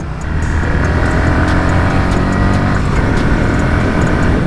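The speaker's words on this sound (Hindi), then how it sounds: "ये देखा बाइक जो है तुरंत स्पीड पकड़ लेती है तुरंत।" A 2020 Bajaj Pulsar NS 160 BS6 motorcycle accelerates hard, its engine a loud, continuous droning roar that rises steadily with no break, heard close up from the rider's position.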